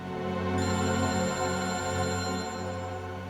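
A phone rings steadily over a sustained musical backdrop in a tense crime-drama scene, its tone continuous and fairly loud throughout, with no talking.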